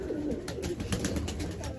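Pigeons at winter grain feeding give a soft, continuous cooing with repeated throaty pulses, close and moderately loud, no talk over it.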